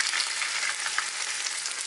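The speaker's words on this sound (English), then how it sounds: "in your frying pan I have 1 tablespoon of olive oil, and it's ready to cook your fish" Fish fries in olive oil in a frying pan with a steady, bright, crackling sizzle, close and continuous.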